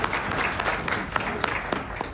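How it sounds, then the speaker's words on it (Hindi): Audience clapping at a business networking presentation, a brief burst of dense applause from a room of people with sharp individual claps standing out, close and steady. "एक बार जोरदार ताली"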